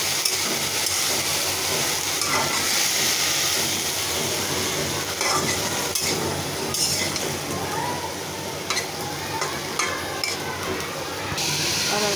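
Chilies fry in hot oil in a wok, a sustained sizzle with scattered metallic clinks and scraping of stirring, steady and close for several seconds.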